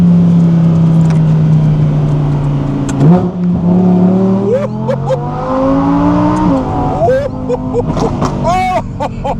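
A 2023 Audi R8 GT engine revs hard with the windows down, a loud rising and falling roar with sharp throttle blips and gear changes, while occupants talk and exclaim over it.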